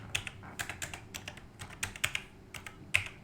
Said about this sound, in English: So I'm going to type in for Mystic,